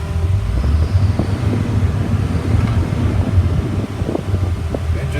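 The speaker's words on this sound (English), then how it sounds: "Revs up nice. I'll rev it up." A 2004 Blue Bird 72-passenger school bus engine runs with a loud, rough low rumble and some mechanical rattle, a steady, close drone with no clear rise in pitch.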